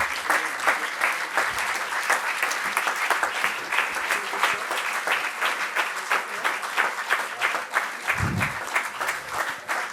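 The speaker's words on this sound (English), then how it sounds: "give a huge round of applause" A crowd applauds steadily and loudly, dense clapping that continues without a break throughout.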